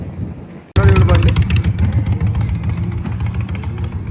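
An Indian motorcycle starts up suddenly and its engine roars close by, a deep loud rumble that slowly fades as it moves past, with people talking nearby.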